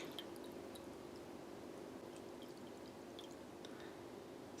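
Black liquid tie dye pours steadily into a container, a faint, continuous trickling wash with a few small drips and splashes, heard alone at low level.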